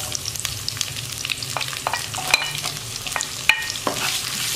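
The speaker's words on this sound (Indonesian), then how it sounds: "Tumis dulu sampai harum." Shallots and garlic sauté in a pan with galangal and bay leaves, a loud continuous sizzle broken by sharp spatula scrapes and clacks at close range.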